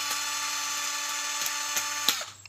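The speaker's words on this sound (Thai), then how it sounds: "ยิงสว่านเลยครับผม" An electric drill whines steadily at a high pitch, a close, continuous motor hum with a few short clicks near the end as it winds down.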